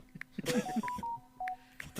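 Telephone dialing tones, a handful of short steady beeps spaced irregularly across a couple of seconds, heard between and under brief bits of talk.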